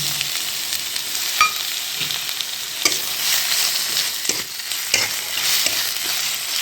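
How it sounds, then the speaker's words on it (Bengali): Chopped tomato hits onions frying in a pan, setting off a loud close sizzle with stirring scrapes and soft taps of a spatula throughout. "এতে এবারে কেটে রাখা টমেটোটা দিচ্ছি"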